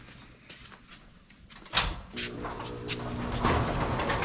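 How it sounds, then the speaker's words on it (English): A door clicks and swings open with a short thump and rattle, followed by a faint hum of outdoor ambience. "Let me open the door."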